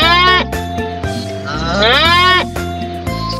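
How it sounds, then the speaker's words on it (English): A loud, drawn-out ox moo with sliding pitch, heard close up and filling the whole moment, with no talking over it. "Ox sounded moo."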